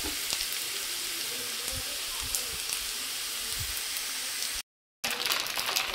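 Chow mein noodles fry in a pan with a steady, moderate sizzle and occasional soft stirring taps, broken by a brief moment of silence near the end.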